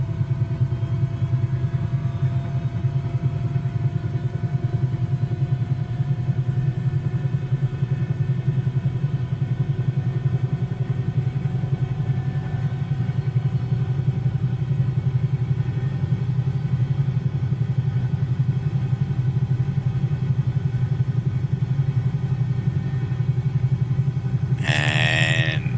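Engine number 2 of a Bell 222B helicopter starting up in Microsoft Flight Simulator makes a steady, loud low turbine rumble and whine. The sound holds constant throughout with a rising tonal hum and brief clatter near the end.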